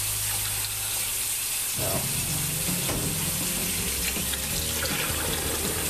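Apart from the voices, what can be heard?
cold tap water running over smoked kielbasa sausages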